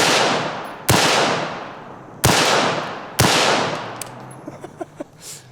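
Rifle rounds strike lightweight body armor outdoors: three loud, sharp shots with long ringing decays, then a few faint metallic ticks and clanks.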